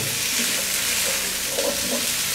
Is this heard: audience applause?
no